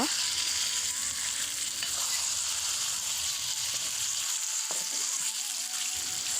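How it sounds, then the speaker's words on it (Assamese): Pork hisses in oil with softened onions, a loud continuous close sizzle with occasional scrapes of a spoon stirring the pan, no talking. "এয়া মই মাংসটো দি দিলোঁ। মাংসটো দি অকণমান লৰাই থাকিব লাগিব।"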